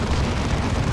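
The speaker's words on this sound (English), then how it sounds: "Demolisher Cannon." A Demolisher Cannon shell exploding in the Warhammer 40k strategy game Dawn of War 2, a loud, dense rumbling blast that fills the moment without breaking.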